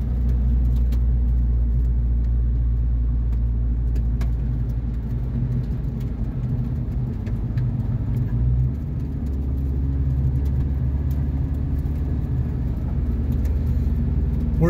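Inside Chuck's smart truck driving up on the Grand Mesa, Colorado, in cold weather, a steady low engine and road rumble with tire whir fills the cab, shifting slightly in pitch partway through, with no talking.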